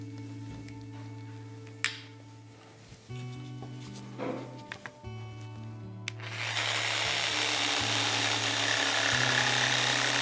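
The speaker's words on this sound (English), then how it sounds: "I'm going to start with a handheld jigsaw and come up around the thin part here on the bottom of the profile." A handheld jigsaw cuts a wooden half model profile. Low tonal hums and scattered clicks come first, then a loud, steady buzzing saw noise takes over for the last few seconds.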